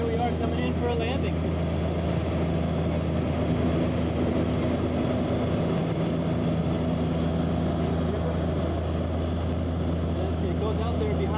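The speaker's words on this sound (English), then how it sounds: "And here we are coming in for a landing." A small propeller plane comes in to land on a river trip in August 1995, its engine a steady loud drone that holds throughout while people talk faintly over it.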